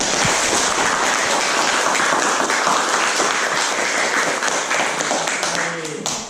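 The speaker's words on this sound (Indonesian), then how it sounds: "Tepuk tangan untuk kita semua." Students in a classroom clap together after a group presentation on catalase enzymes, a loud, dense burst of applause that holds steady for several seconds before starting to fade, with voices mixed in toward the end.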